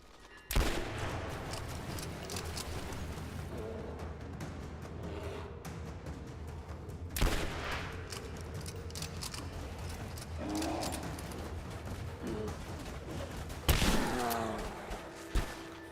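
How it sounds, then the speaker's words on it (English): Shotgun blasts in the video game Rise of the Tomb Raider, three loud booming shots spaced several seconds apart over a constant noisy game background. "We'll see what the shotgun does."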